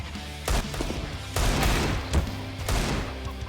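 Gunfire in Counter-Strike on the Inferno map during a professional esports match. Several loud, sharp shots and short bursts come in quick succession over a constant background hum of game ambience.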